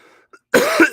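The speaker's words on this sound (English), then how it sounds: "I'm so sorry for coughing right in you guys' face." A single loud, close cough bursts out after a faint moment of near silence, harsh and brief, ending in a second short hack.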